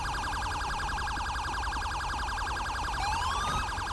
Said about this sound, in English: please turn your siren off.